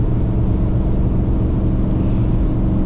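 A Ford F-150 with a 5.0 V8 drives at night, its engine giving a loud, steady, deep rumble that fills the cabin without letting up, with some wind noise mixed in.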